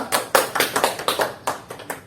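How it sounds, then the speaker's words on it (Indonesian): Classroom students clap in a quick rhythmic pattern, about a dozen distinct sharp claps in uneven groups, fairly close and clear with no talking. "Tepuk tangan dulu."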